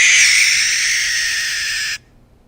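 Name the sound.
barn owl calling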